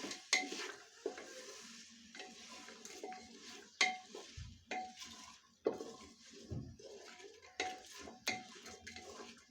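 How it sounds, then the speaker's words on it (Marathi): Spices are stirred into oil in a pan for Maharashtrian masala rice, with repeated clinking scrapes of a spoon against metal over a faint sizzle, fairly quiet and close. "हे सर्व थोडंसं मिक्स करून घ्यायचं आहे तेलामध्ये"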